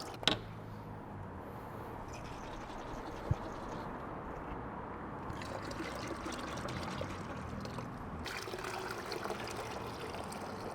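Liquid pours from a gallon bottle in a steady, soft trickling stream that continues throughout, with a faint knock near the start.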